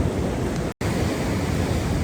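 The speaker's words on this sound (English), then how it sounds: "Waves are not as aggressively attacking these rocks" Steady loud roar of ocean surf breaking against rock formations on a beach in San Juan, Puerto Rico, with wind rumble and a brief dropout partway through, no voices.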